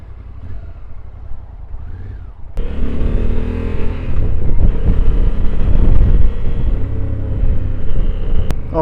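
Riding a 2025 Honda Africa Twin motorcycle at about 40 mph, with steady wind rush and engine drone that swell suddenly after a quieter start and stay loud and continuous.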